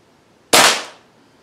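A single sharp shot from an FWB 65 air pistol on a 10 m indoor range: one crisp, close crack with a brief decaying tail, followed by quiet.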